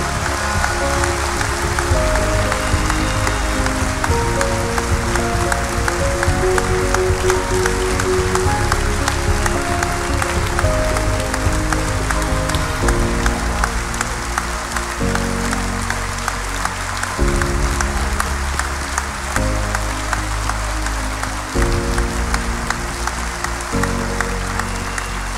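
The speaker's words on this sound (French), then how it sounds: "Ils méritent ces applaudissements et je suis sûr qu'ils vous ont entendu." A crowd at a party rally applauds loudly and continuously, a dense roar of clapping that holds steady throughout, with some music-like tones beneath it.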